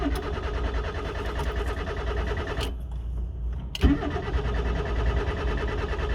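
A used car's starter cranks the engine repeatedly without it catching, a loud continuous mechanical churning that pauses briefly for about a second before cranking resumes.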